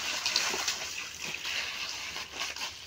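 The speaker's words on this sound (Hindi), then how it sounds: "जैसे पानी गिरा के इसको पूरा फैलाया जा रहा है।" Water is poured and spread over a cow dung plaster floor in a village home, a close sloshing, splattering wash with scraping and small splashes running steadily.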